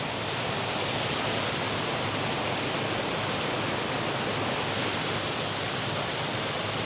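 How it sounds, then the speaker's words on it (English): A waterfall beside a backcountry trail gives off a steady, dense rushing hiss of falling water, unbroken and fairly close, with no voices over it. "There's a waterfall."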